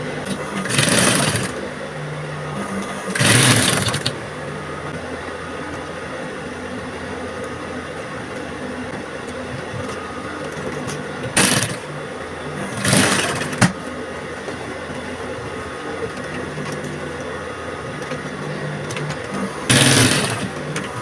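A sewing machine stitches corset boning into fabric in short, loud bursts, five separate runs of rapid mechanical whirring separated by quieter pauses over a steady background hum.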